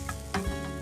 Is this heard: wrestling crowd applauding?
no